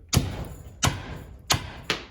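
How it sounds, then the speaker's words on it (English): The ball end of a ball-peen hammer knocks at a rear trailing arm bushing, giving four sharp, close metallic knocks spaced about two-thirds of a second apart, each with a short ring. "take a ball-peen hammer, the ball end of it,"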